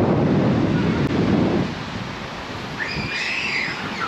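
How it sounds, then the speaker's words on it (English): Ocean surf rolling onto a curving beach at a point in Khao Lak, Thailand, a broad rushing wash that is loud at first and then eases, with gusty wind buffeting the microphone. "Look at the waves that are coming from over there."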